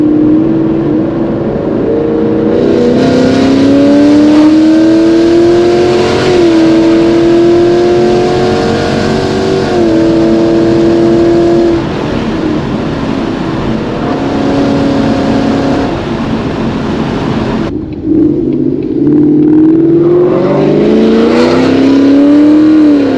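A full-bolt-on E85 S550 Ford Mustang accelerating hard through paddle-shifted gears, a loud close engine rising in pitch in repeated pulls with brief drops at each upshift, no talk.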